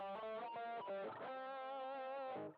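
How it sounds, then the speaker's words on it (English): An electric guitar with an effects-laden, slightly distorted tone plays a short melodic phrase of several notes, ending on a sustained held note. "And if I play it on the guitar, it's going to sound like this."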